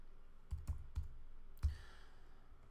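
A few sharp keyboard clicks on a computer keyboard while editing in Final Cut Pro X, four separate taps spaced unevenly over a quiet room background, close and moderately loud.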